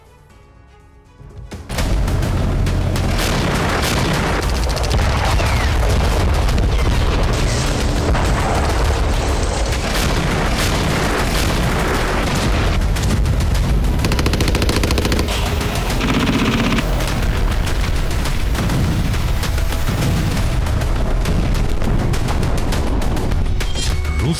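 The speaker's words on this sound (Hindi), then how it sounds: "आसमान से मिसाइल और ड्रोन अटैक किया जा रहा है" Wartime missile and drone strikes create a dense, continuous roar of explosions and booming blasts with rattling gunfire-like bursts. The sound is loud and sustained after a brief quiet start.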